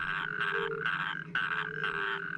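Loud, rattling trills from natterjack toads calling in repeated bursts from shallow water in sandy areas of a river valley, several overlapping voices pulsing steadily against a quiet background.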